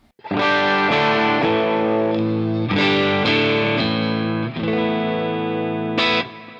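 Heavily distorted electric guitar chords from a Friedman Vintage S ring out, struck a few times and left to sustain, loud and thick with a slight chorus shimmer.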